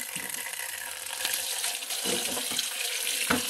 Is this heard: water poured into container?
yes